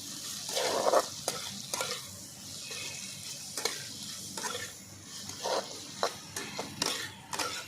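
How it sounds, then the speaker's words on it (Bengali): Ivy gourd (kudri) stir-fried with turmeric and salt, steady sizzling broken by repeated sharp scrapes and clinks of a spatula against the pan, close and fairly loud with no talking. "ভালো করে এবার আমি কষিয়ে নেব দু থেকে তিন মিনিট"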